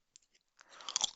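Tomato-flavoured Pringles chips crunched and chewed up close, starting with a faint snap and building into a dense run of crisp, crackling bites toward the end.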